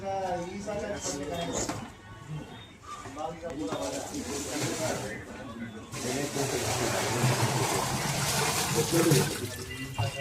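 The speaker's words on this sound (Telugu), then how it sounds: "ఇప్పుడు వాటర్ వేసేసి చూపిస్తాము" Water gushes and splashes as it is poured into a water heating drum, the flow growing louder midway, with people talking over it.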